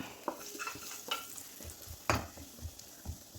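Fried prawns and curry leaves stirred in a pan, with spaced scraping strokes of a spoon over a soft, steady sizzle that stays fairly quiet throughout.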